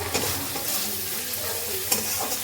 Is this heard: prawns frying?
yes